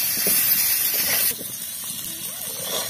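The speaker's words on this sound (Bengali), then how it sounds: "এবার আমি ভালো করে আলুটা ভেজে নেব।" Potatoes fry in a pan with turmeric and salt, a loud, close, steady sizzling hiss that drops to a softer crackle partway through, with light stirring clinks.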